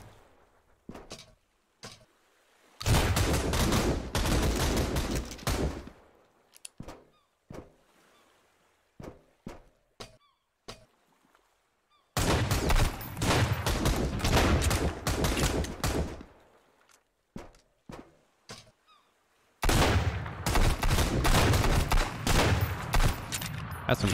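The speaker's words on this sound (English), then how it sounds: "That's some close range shotgun." Close-range shotgun blasts in the survival video game Sunkenland, three long, loud roaring bursts of gunfire separated by sharp single shots and brief pauses.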